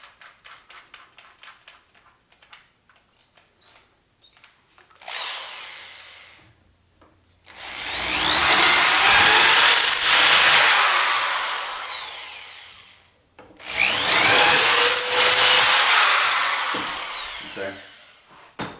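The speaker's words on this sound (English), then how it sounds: "I'm opening these up with a C drill." A power drill bores out holes in wood while a wind turbine lid is test-assembled, with two long loud whirring bursts separated by a pause, preceded by light tapping and handling noises.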